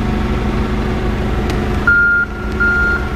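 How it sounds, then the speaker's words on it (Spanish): A loud forklift reversing alarm, on a Toyota 8FGU25 LP gas sit-down forklift, beeps in long, evenly spaced tones over the low rumble of its idling engine close by. "la alarma de reversa también funciona"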